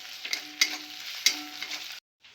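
Ginger-garlic paste sizzles with browned onions in a pan for Mughlai chicken, with a few distinct spatula strokes over the hiss before it cuts off abruptly.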